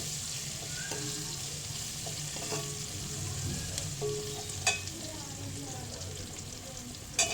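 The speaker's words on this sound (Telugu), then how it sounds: "పోపు గింజలు, మళ్ళీ ఆనియన్స్, చిల్లీస్ అయితే వేసుకొని కలుపుకోవాలి" Onions and chillies sizzle steadily in a hot pan as a spoon stirs them, with a constant frying hiss, occasional scraping clinks and a couple of sharper knocks near the end.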